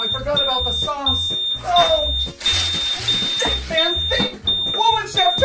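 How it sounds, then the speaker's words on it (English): A high, continuous electronic alarm tone sounds throughout, steady and fairly loud, while a voice talks over it and music plays underneath. "Is that the smoke alarm?"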